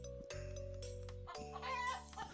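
Chickens in a video game cluck and crow in short synthetic bursts over a steady electronic hum, with a brief jingly flourish near the end; no one speaks.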